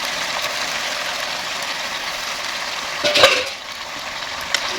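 Sardines frying in a pan with a steady, bright sizzling hiss; one brief clatter and a surge of sizzle mark vegetables being tipped in.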